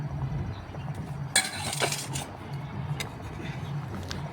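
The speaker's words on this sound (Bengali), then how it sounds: "একবার খুরপি দিয়ে এইভাবে নাড়াচাড়া করে দিচ্ছি" A spatula scrapes and stirs through rice boiling in a pot, soft scraping strokes and light clinks against the metal over a steady low bubbling simmer.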